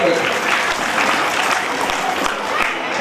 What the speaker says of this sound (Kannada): ಚಪ್ಪಾಳೆ ತಟ್ಟಬೇಕ್ರಮ್ಮ, ನಿನ್ನ ಆರೋಗ್ಯಕ್ಕೂ ಒಳ್ಳೆಯದು